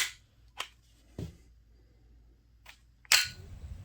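A Sig Sauer P320-X Carry CO2 blowback BB pistol fires several sharp, snappy shots with uneven gaps between them, close and clear against a quiet background.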